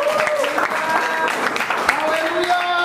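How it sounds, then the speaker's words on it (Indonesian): A church congregation applauding during an evening prayer service, a short burst of clapping with crowd noise and overlapping voices throughout. "Kita beri tepuk tangan."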